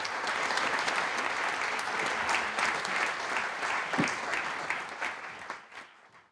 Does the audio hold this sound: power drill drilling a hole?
no